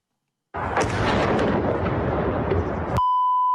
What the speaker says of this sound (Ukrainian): зафіксували вибухи в кількох інших районах Москви